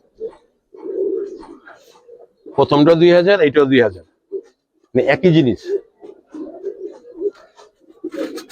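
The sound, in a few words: Giribaz pigeons cooing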